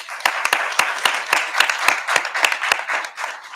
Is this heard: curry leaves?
no